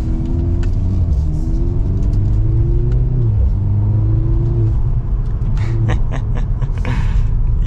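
A 2023 Mercedes-Benz C43 AMG 4MATIC driving, with a steady loud engine and road rumble throughout, its pitch rising and falling with gear changes and throttle.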